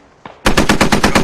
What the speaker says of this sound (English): Some pretty good shots being let out by this MRAP here.